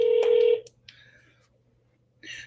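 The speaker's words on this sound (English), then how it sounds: "See if it starts ringing." On an outgoing call a telephone gives one short ringback tone, then a brief click and a pause before a second burst begins, heard close and clear with no voices.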